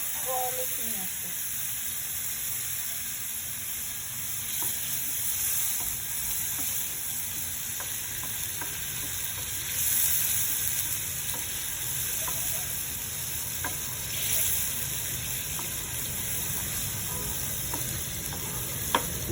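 Steady sizzle of frying in oil for an Assamese singhi fish cumin curry, a continuous hiss running through the whole stretch with faint stirring scrapes and ticks, moderately loud and close.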